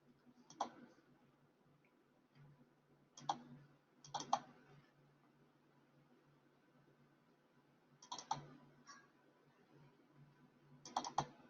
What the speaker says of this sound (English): if I just go Control F on my keyboard